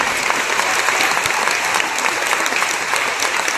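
Loud, sustained audience applause fills the hall at a distributor company's 18th anniversary program, dense clapping from a large crowd continuing evenly throughout with no voices over it.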